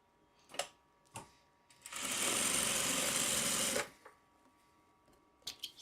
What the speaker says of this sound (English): we'll sew these two together